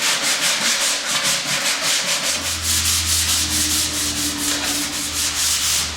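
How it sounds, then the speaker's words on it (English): Coarse sandpaper rubs steadily along the edges of a board cut for an attic door opening, a continuous close, rasping scrub with a rhythmic back-and-forth pulse and a low hum underneath. "I'm going to lightly sand the edges with a coarse piece of sandpaper"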